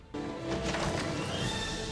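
A horse whinnies loudly in a scene from the film Robin Hood: Prince of Thieves, a long shrill neigh over rumbling hoof and crashing action sounds, with no speech.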